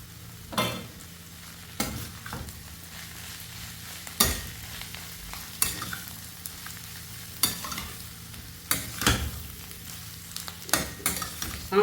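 Potato poriyal with curry leaves and coriander is stirred in a pan, soft sizzling running underneath while a spoon scrapes and knocks against the pan in irregular strokes, some louder and sharper than others.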